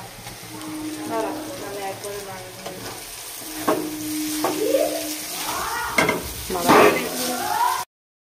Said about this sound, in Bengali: কড়াইতে চাউমিন বৌদি নাড়িয়েই যাচ্ছে